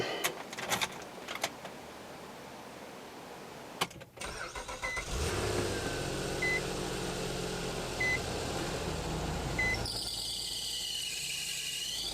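A running 2006 Nissan Maxima engine with a worn belt squealing, heard as a steady engine drone with a thin high whine and repeated short chirps, starting partway through after a brief start-up.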